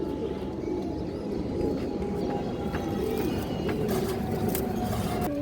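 Pigeons kept for sale, continuous low throaty cooing close by, layered and steady throughout, with faint higher chirps and light knocks scattered near the end.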